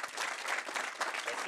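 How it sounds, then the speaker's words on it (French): An audience at an entrepreneurs' talk applauds the speaker, a brief burst of steady, fairly soft clapping with a few voices mixed in. "Donc je vous invite à applaudir Adrien, à le remercier."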